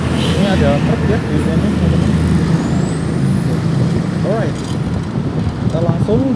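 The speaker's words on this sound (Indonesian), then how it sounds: "Ini ada truk ya di sini teman-teman." A truck rumbles nearby in busy road traffic, a steady engine drone with brief squealing brake hisses and passing vehicle noise, while a rider talks over it.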